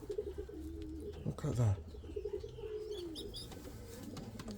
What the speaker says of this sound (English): Hear the bird squeaking, and it's so big.